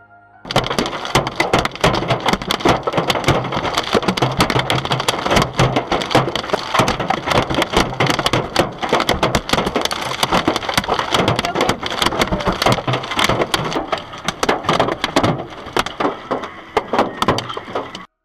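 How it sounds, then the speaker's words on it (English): Hail pounds a car without letup, drumming on the body while the windshield and rear window glass crack and shatter. The dense, loud clatter stays close for the whole stretch, with no talking. "The hail keeps coming down and the glass keeps breaking while the driver could do nothing."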